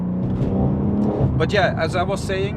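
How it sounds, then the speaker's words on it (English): A manual BMW M3 G80 with a different rear exhaust box drones with a deep, steady engine rumble from inside the car while someone talks over it. "I think it also has a different back box on this car, so it sounds really deep and throaty."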